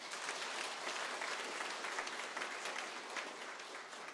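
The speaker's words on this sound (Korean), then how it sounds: "하나님께 영광의 박수를 먼저 올려드리겠습니다" A church congregation claps in sustained, dense applause that holds steady for several seconds and tapers slightly at the end.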